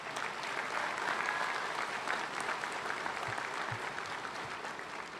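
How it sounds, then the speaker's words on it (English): Graduation ceremony audience giving a long, steady round of applause for graduates, dense clapping sustained evenly throughout with no talk over it. "Let's give our graduates one more big round of applause."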